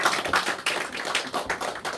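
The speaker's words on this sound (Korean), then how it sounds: "하나님께 영광의 박수를 올려드리겠습니다" A church congregation applauds during a Sunday morning service, a dense, steady wash of many hands clapping together, close and loud, with no one speaking over it.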